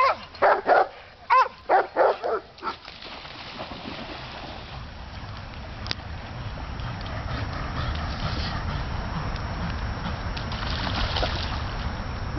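A dog barks in a quick burst of about half a dozen yips outdoors while fetching at a lake, then the barking stops and a steady wash of water and wind noise takes over.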